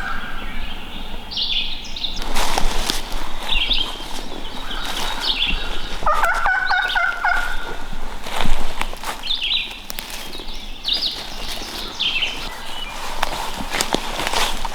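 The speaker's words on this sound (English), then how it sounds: "Was that a different turkey? That's two gobblers." Distant wild turkey gobbles carry across an outdoor hunting scene in Hocking Hills, with rustling footsteps through brush and scattered bird chirps around them.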